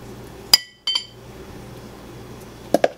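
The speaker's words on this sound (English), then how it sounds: "Now we're going to scoop out some of our smoothie." A mango berry smoothie being scooped into a glass, bright clinks of utensil against glass, one sharp tap, a quick double clink, then two more near the end, close and clear over quiet background.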